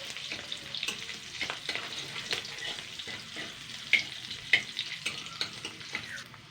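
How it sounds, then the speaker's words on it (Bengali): Crushed garlic and cumin fry in a pan with a close, continuous sizzle and crackle, broken by stirring scrapes and a couple of sharper pops, with no talking. "সেটা ভালো করে ভেজে নেবো জিরে আর রসুনটাকে"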